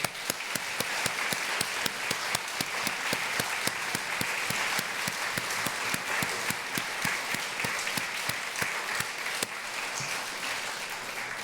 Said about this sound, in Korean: 우리 목사님들, 교역자들 등단하실 때 박수해 주시겠어요?